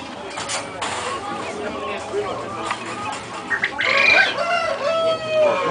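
Chickens cluck and a rooster crows at a poultry breed exhibition, the bird calls rising over steady crowd chatter and speech, with louder crowing and squawks near the end.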